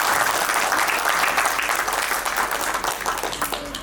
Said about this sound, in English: So let's have a round of applause for Mrs. Monica Paul.